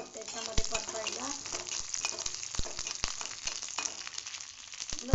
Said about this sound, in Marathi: आता आपण लसूण टाकणार आहोत त्याच्यामध्ये परतायला.